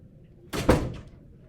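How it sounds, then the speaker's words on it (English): A room door shuts with a single short thud and a brief rattle, fairly close in an otherwise quiet room. "Someone just came into the room and left the door open."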